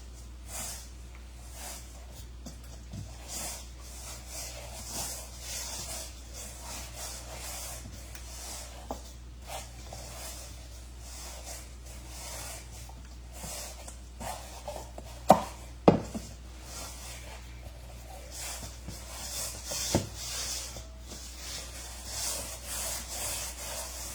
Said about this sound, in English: So actually I'm kneading the dough right now.